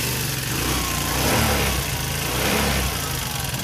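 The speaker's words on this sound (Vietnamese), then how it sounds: "Máy rất là êm, chạy giọt ha." A fuel-injected Piaggio Liberty 150 scooter engine runs steadily at a smooth, even idle, close by and fairly loud, with no talking over it.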